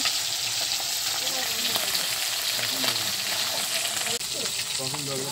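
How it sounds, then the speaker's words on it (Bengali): Fish fries in a pan over a brick-built wood-fired stove, giving a loud, continuous close-up sizzle with occasional crackles and pops, and faint voices in the background. "এখন মাছ ভাজা চলছে"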